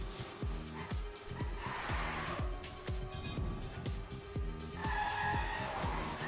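Racing video game cars in a 24-hour road race, with repeated falling engine notes as cars pass, a steady drone of motors and bursts of tire skidding as a car crashes, heard under faint background sound.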